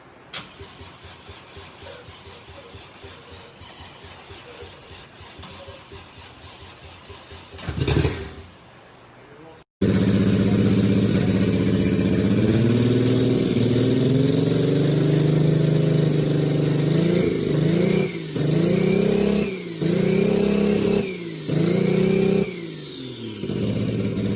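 A Toyota 1JZ engine mounted in a pickup truck bed, first a quiet idle under talk, then starting up loud and close, running steadily with repeated rising revs and drops.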